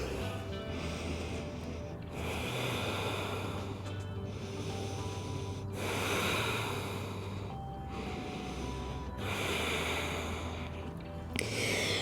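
Slow, deep yoga breaths taken in a forehead-down seed pose, heard as several long airy inhales and exhales in a regular rhythm, close and soft, with no talking.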